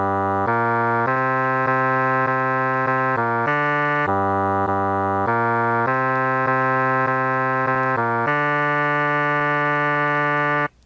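A counterpoint melody imitated in contrary motion plays as a string of about a dozen sustained, evenly held synthetic tones, loud and clean with nothing else over it.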